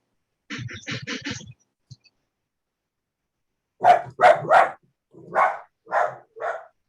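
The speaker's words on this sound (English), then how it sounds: "sorry about the dog" A house dog barks indoors, reacting to a passing delivery truck: a fast cluster of close barks, a pause, then six loud separate barks in two groups, with no talk over them.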